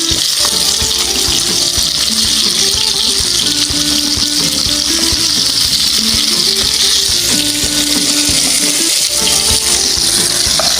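Surma fish sizzles steadily in hot oil in a pan with onions. The frying stays loud and continuous, with light scraping and clatter as the fish is flipped, and no voices.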